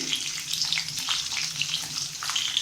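Indian gooseberries (amla) sizzle steadily in a little oil over low heat for a pickle, a soft continuous frying hiss with light crackles, close and even throughout.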